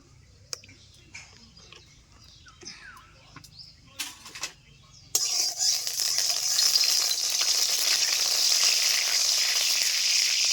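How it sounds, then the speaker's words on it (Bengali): Mustard oil poured into a hot wok bursts into a loud, sudden sizzle about halfway through, after quiet kitchen clatter and small knocks, then holds as a steady close hiss. "কড়াই গরম হয়ে গেছে, দিয়ে দিচ্ছি সরষের তেল"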